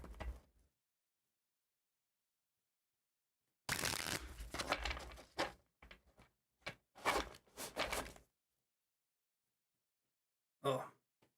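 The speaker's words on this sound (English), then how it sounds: "I'm gonna do a couple more shuffles." Tarot cards are shuffled by hand in a quiet room, with close, crisp riffling bursts separated by silences: one short burst, then a longer run with several quick repeats, then a final brief shuffle.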